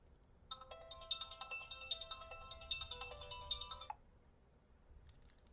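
A phone ringtone plays a bright, repeating electronic melody for several seconds, then cuts off, followed by a faint brief chime.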